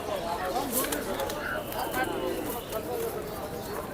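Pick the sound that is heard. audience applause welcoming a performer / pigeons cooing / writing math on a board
pigeons cooing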